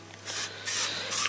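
Three short hissing bursts of a can of dark spray paint, each under half a second, with brief pauses between them, close and fairly soft.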